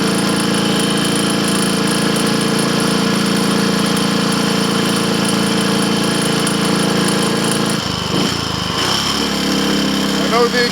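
A Triumph Tiger Cub motorcycle engine runs steadily during a road test, a loud continuous buzzing drone that dips and changes pitch near the end, with no talking heard.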